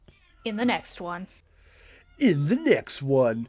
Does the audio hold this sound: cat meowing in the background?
yes